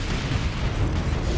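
Grenade explosions in the video game Warhammer 40,000 Space Marine, a dense, loud, low rumbling boom that fills the whole short moment without any pause or voice.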